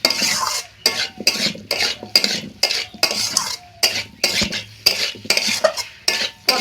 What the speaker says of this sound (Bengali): পটল আলুটা এইভাবে কয়েক মিনিট কষিয়ে নেওয়ার পরে